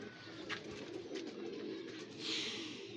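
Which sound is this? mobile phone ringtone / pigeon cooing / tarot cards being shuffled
pigeon cooing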